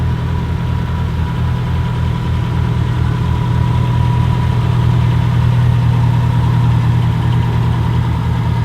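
A car engine idles loudly and steadily with a low, even rumble and regular pulsing throttle, heard close up in a garage with no voices.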